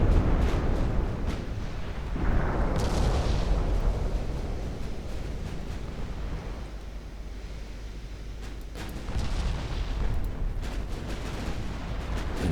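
Warships explode and exchange gunfire in the naval battle game Ultimate Admiral Dreadnoughts, with heavy booms and rumbling blasts through a long stretch of dense battle noise, loud throughout with repeated bursts.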